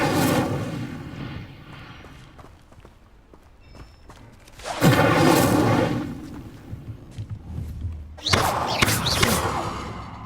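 Incendio fire spells cast in the video game Hogwarts Legacy, producing heavy whooshing, roaring bursts with thuds, two big blasts several seconds apart over quieter footsteps and ambience.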